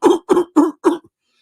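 A voice mimics another man coughing, four quick evenly spaced harsh coughs close to the microphone, then silence.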